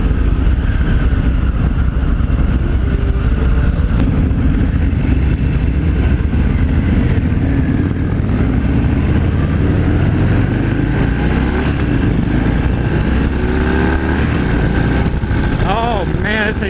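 A 2018 Harley-Davidson Fat Bob 114 motorcycle pulls hard through the gears on the road, its engine a loud, continuous low rumble over heavy wind noise, with a rising whine near the end.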